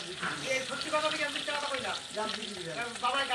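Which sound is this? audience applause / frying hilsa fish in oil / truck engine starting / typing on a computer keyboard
frying hilsa fish in oil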